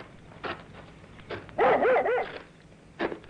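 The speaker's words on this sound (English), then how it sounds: "what's the matter with your dog?" A dog gives a few close barks on a quiet road, first scattered single yips, then a quick burst of three or four barks, and one more at the end.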